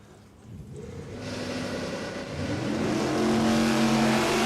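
A drag race car runs down the track at Willowbank Raceway in Queensland, its engine roar building steadily louder and fuller, heard alone.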